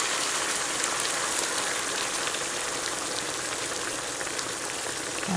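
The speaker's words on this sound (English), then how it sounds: "I'll pour boiling water," Boiling water pours into a hot pan of browned beef roulade, giving a steady rushing, sizzling hiss that holds evenly to the end; no talking.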